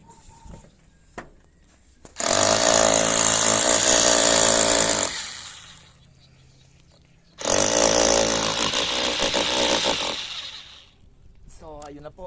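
A power drill bores into a surface while a CCTV camera is being mounted, making two loud, sustained whirring bursts of about three seconds each, separated by quieter moments with faint background sounds.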